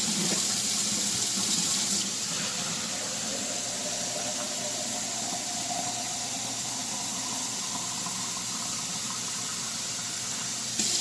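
A kitchen tap runs steadily into a pot, a continuous close rush of water that holds even for about eleven seconds with no talking.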